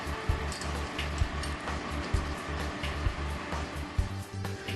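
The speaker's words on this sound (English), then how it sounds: "Material is moved towards the rotor system by means of a chain and slat conveyor, driven by a hydraulic motor" The chain and slat conveyor of a Teagle Tomahawk 808SC feeder-bedder runs on a hydraulic motor, heard as a steady mechanical drone with a regular rhythmic clunk roughly once per second.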